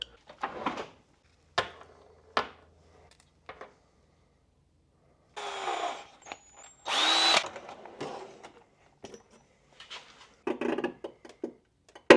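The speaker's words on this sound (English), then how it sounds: "I have to drill those out first, which is a little itty bit scary" A power drill whirs in short, separate bursts with quiet gaps between, drilling out rivets on a Porsche 997 Turbo, louder near the middle, alongside small clicks and handling sounds.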